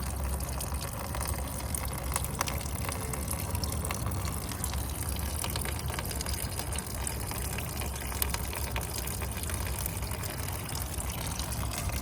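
Coolant drains steadily from a Kawasaki ZX-14R motorcycle, a continuous close-up trickle and splash of liquid with no talking.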